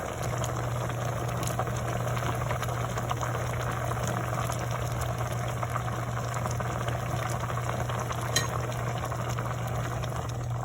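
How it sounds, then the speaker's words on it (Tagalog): A pot of Filipino denengdeng vegetable stew with papaya simmers steadily, giving a continuous bubbling hiss over a low steady hum, close and even throughout with no voices. "so ilagay na po natin ang ating mahiwagang papaya"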